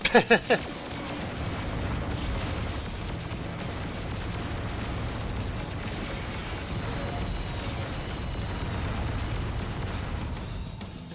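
A rocket explodes in the Descent video game: a quick cluster of sharp blasts at the start, then a steady, loud low rumble that continues throughout.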